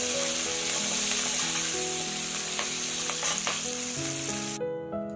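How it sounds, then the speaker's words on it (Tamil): Onions and curry leaves sauté in a pan for sundakkai vatha kuzhambu, a loud steady close sizzle with occasional stirring knocks, a continuous tonal hum underneath, the frying cutting off abruptly near the end. "அப்புறமா வெங்காயம் கொஞ்சமா கருவேப்பிலை இவ்வளத்தையும் நல்லா வதக்கிக்கோங்க"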